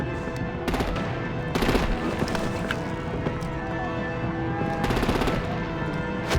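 Rapid machine-gun fire and gunshot bursts from the video game Batman: The Telltale Series, loud and dense, with several sharp volleys over a continuous rumbling battle bed.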